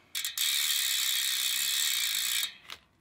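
A Profile Racing cassette hub wheel spins freely, its pawls clicking in a fast, steady ratchet buzz for about two seconds after a short start, then stopping with a brief final tick; close and clear, no talking.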